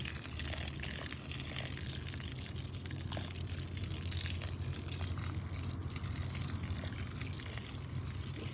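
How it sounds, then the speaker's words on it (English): Water poured onto freshly covered soil in a seed-starting pot, a steady continuous gushing pour lasting throughout, close and even in level with no talking. "I'm just gonna water it in."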